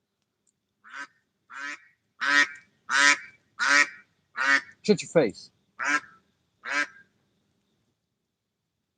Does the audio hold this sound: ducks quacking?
yes